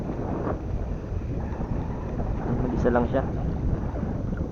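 Strong wind roars and buffets the microphone during outdoor fishing, a continuous rumbling gust with a brief voice speaking partway through.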